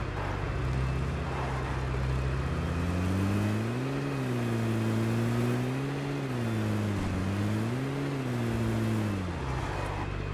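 A car drives across the Erangel map in PUBG, its engine droning steadily with tonal pitch that rises and falls in gentle waves as it revs and shifts, continuous throughout with no talk.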